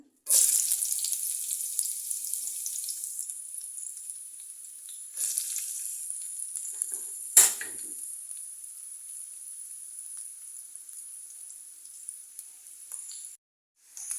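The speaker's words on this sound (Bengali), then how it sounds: "বন্ধুরা পেঁয়াজটা ভাজা হয়ে এসেছে।" Onions frying in hot oil in a pan, a steady bright sizzle that continues for the whole stretch with a few louder crackles, close and alone, as the base for a beef brain bhuna.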